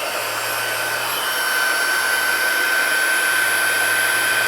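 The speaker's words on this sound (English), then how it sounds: "Now I do have to use the heat gun, so it will be a little noisy for just a little bit." A heat gun blows hot air onto a craft treat bag, a loud steady roaring whoosh with a high whine, close and continuous throughout.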